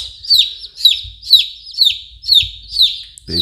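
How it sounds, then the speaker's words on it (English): A white chick in a box peeps loudly and repeatedly, seven high, evenly spaced cheeps close by, with faint low rustling beneath. "what you hear in the background, that is the white chick in the box"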